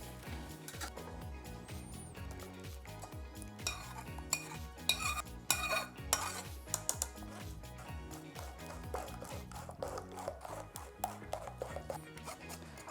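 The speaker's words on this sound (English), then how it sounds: "I'm really trying hard to push all of the moisture straight through the sieve" Cooked strawberries being pressed and scraped through a metal sieve with a utensil, giving repeated close clinks and scraping strokes in an uneven rhythm.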